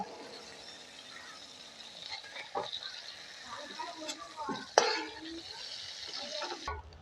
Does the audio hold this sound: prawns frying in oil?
yes